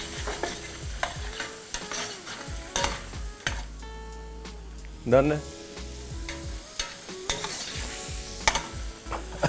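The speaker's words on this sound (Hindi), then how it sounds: "हल्का सा भूनना है ताकि वो जो अदरक लहसुन पेस्ट है वो ज़्यादा कच्चा ना रहे।" Ginger garlic paste with salt, turmeric and degi mirch sautéing in a pan: steady sizzling and frying with repeated spoon stirring and scraping, and a brief spoken word over it.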